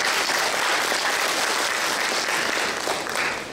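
A large audience in a conference hall breaks into sustained, dense applause that stays loud throughout and fades slightly at the end.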